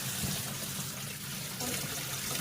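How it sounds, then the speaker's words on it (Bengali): Water runs softly and continuously while dried hilsa fish is washed in a home kitchen, a quiet splashing trickle with no voices. "আমি শুটকি দিচ্ছি, ধুয়ে নিচ্ছি শুটকি"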